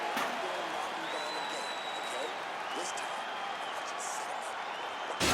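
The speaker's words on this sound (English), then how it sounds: "the crowd voicing its appreciation after that round" Crowd at a fight in EA Sports UFC 4 applauding and cheering after a round, a steady, fairly distant wash of clapping and voices with faint commentary-like sounds mixed in.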